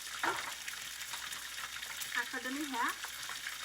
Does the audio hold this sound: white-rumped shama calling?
no